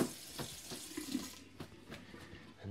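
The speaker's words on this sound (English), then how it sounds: "Give it a quick wash off with cold tap water." Cold water runs steadily from a tap as hands are rinsed under it at a sink, a close, continuous splashing with small shifts as the hands move through the stream.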